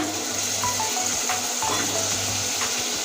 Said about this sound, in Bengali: প্রথমে চিকেনটা দিয়ে দিচ্ছি মশলার ভিতরে